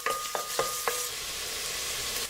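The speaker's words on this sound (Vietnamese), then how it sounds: "Khi dầu đã nóng thì mình cho 1 muỗng canh hành tỏi băm vào," A tablespoon of minced shallot and garlic dropped into hot oil in a pan, sizzling steadily with a few quick stirring scrapes at the start, close and fairly loud.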